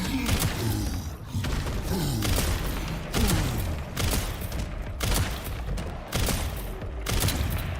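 Repeated heavy bursts of video game gunfire, loud and close, coming in volleys about once a second with booming thuds and echoing tails, without any talking.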